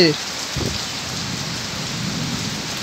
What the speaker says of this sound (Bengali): আজ বজ্রবিদ্যুৎ সহ বৃষ্টি হচ্ছে